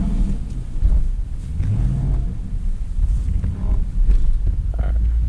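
A loud rear-wheel-drive Dodge Durango RT slides sideways through snow. Its deep engine rumble surges and swells under gusty wind noise on the microphone.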